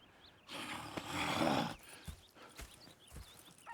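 A horse whinnies loudly for about a second in the game Red Dead Redemption 2, followed by scattered hoof thuds and faint snorts in a quiet outdoor setting.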